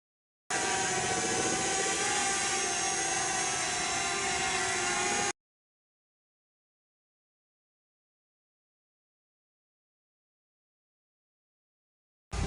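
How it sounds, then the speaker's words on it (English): A Potensic Atom drone flies outdoors on a windy day, giving a steady whirring, buzzing hum for several seconds before it cuts off into silence. "So the drone's over there."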